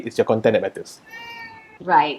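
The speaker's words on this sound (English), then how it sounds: "That's not a baby, that's a cat, right?" A cat meows clearly in a long, drawn-out call during a pause in nearby conversation, with people talking before and after it.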